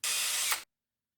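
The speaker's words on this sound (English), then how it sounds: "I'm going to mix it up with my power tool" A power tool mixing Moscato wine must in a one-gallon jug gives a single short, loud whirring burst of under a second, then stops dead into silence.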